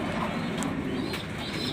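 Pigeons in a loft waiting to be fed murmur with soft low cooing over a constant rustling background, with a couple of brief sharp sounds standing out, fairly close.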